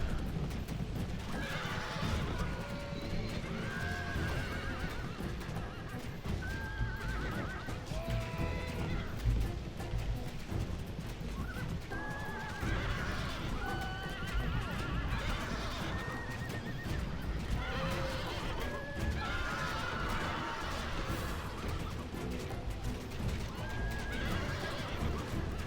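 Horses neigh and whinny repeatedly over steady galloping hoofbeats as horse archer cohorts fight in a dense Rome Total War: Barbarian Invasion battle during the siege of Mediolanum, with the din of combat continuous throughout.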